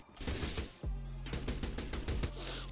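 A minigun in a Roblox fighting game fires in rapid bursts, with dense mechanical rattling shots and a low thumping boom, loud and close.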